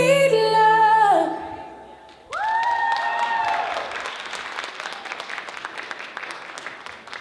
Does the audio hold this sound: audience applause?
yes